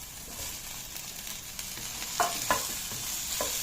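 Potatoes sautéing in a pan for a soya meat curry, a soft continuous frying sizzle broken by a few brief spoon-stirring clinks and scrapes, no voices.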